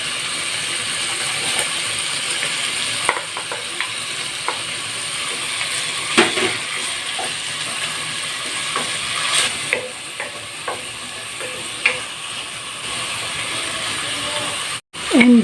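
Onion sautéing in a pan for chicken tinola, a continuous soft sizzle with scattered scrapes and clicks of stirring, steady and close throughout.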